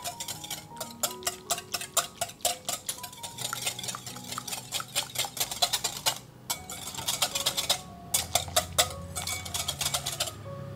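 A sweet sauce made with Yakult is stirred steadily. Quick, rhythmic clinks and scrapes repeat for the whole stretch, close and fairly loud, with no talking.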